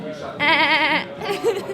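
A person mimics a sheep's bleat with a wavering, quavering voice lasting about half a second, followed by a short chuckle.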